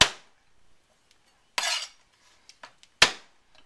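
Garlic being mashed with a hard utensil: a few sharp, close smacks and clanks spaced apart, with small knocks between them, otherwise quiet.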